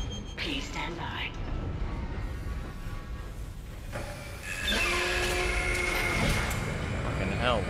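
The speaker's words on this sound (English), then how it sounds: "The tram is loud." A Dead Space tram hums and clatters, then swells louder after a few seconds with high metallic whining tones, heard under a person talking.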